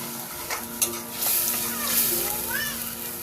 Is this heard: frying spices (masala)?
yes